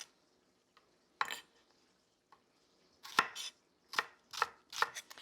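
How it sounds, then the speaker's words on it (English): A knife slices through shallots on a cutting board, one chop followed by a quick burst of four or five crisp cuts, close and fairly loud with no talking. "I'll do a couple of slices here."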